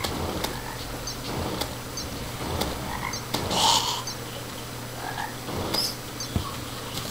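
Frog croaks from the jungle area of the video game Terraria, several short repeated croaks over a continuous hum of game ambience, with no talking.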